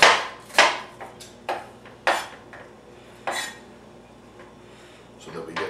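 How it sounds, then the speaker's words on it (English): Knife chopping half an onion into small pieces on a cutting board, a handful of sharp, irregular clacks and taps, close and fairly loud, with faint scraping between strokes. "I'm going to chop it into small pieces."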